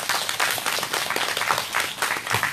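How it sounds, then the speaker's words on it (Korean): A crowd at an outdoor rally opposing the THAAD deployment claps steadily in a sustained, fairly close round of applause, with individual claps clearly audible. "우리 김천 시민대책위 분들께 큰 박수 한번 주시죠"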